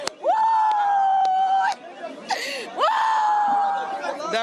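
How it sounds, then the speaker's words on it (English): A crowd of grieving relatives wails outside a hospital in Ejura, long drawn-out cries rising and falling close by, broken by shorter voices and murmuring. "you can see the wailing crowd, people who have lost their relatives"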